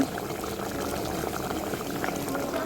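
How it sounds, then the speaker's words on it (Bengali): Tomatoes boil in a pot to be mashed, giving a steady close bubbling and simmering with a constant liquid churn and no talk. "এই যে টমেটো সিদ্ধ দেওয়া হয়েছে ভর্তা করার জন্য"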